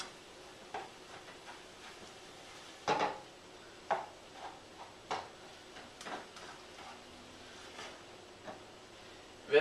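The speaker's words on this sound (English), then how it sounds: "We'll stir this up." A spoon stirs a pot of Mexican vegetable soup, making quiet, scattered clinks and scrapes against the metal. The taps come at irregular intervals over a soft, low background.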